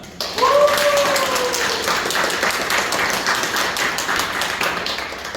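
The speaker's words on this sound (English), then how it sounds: "Let's give a round of applause, please." Audience applause at a club meeting, a steady wash of clapping from a room of people that starts abruptly and holds for several seconds, with a brief whistle-like tone near the start.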